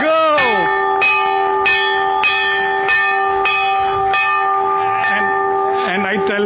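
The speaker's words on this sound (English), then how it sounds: "now you have to ring the bell very hard" A bell struck hard again and again at a market opening ceremony for a Diwali event, about seven loud, ringing strikes in a steady rhythm, each leaving a long metallic hum, with faint voices underneath.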